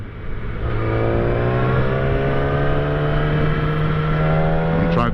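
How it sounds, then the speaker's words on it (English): Steady engine drone with rising rev harmonics from a Voge DS900X motorcycle riding through heavy road traffic, loud and continuous with wind noise throughout. "A lot of traffic today."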